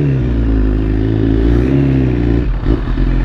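A motorcycle engine runs steadily up close, a loud continuous rumble with a brief dip and clatter near the end.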